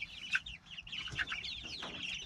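Homestead chickens cluck and squawk close by in short, irregular bursts, with a few sharper calls over a quiet yard.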